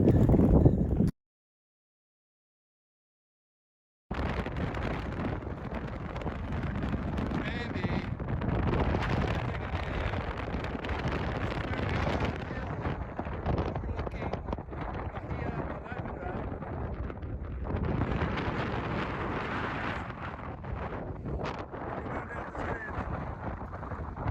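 Gusty desert wind buffets the microphone during a walk, a steady roaring rush after a brief silent gap, loud and close throughout with swelling gusts, and no clear speech.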